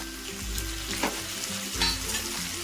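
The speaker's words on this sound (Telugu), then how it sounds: "ఈ టమాటా ముక్కల్ని మనం ఇందులో వేసేసుకోవాలి" Tomato pieces frying in a pan of hot oil give a steady, close sizzle, with brief stirring scrapes over it.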